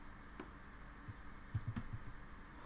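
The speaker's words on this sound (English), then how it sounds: "we can just press Ctrl C Ctrl V on a keyboard" A computer keyboard being used for a Ctrl C, Ctrl V copy-and-paste in modelling software: a few faint, quick key clicks grouped close together near the end, over a low room hiss.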